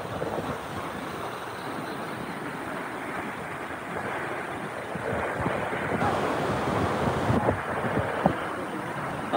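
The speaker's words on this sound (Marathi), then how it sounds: "पाणी एवढा फोर्सने पडतोय" Savatsada waterfall near Chiplun in the Konkan pours down with force, a steady broadband roar of rushing water that swells slightly louder toward the end, with no talk over it.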